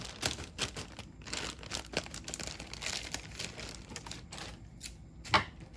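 A blade slices through tape and cardboard on an AMT Modelking Twin V8 Dragster model kit box, giving quiet irregular scratches, crinkles and tearing sounds close by with no talk.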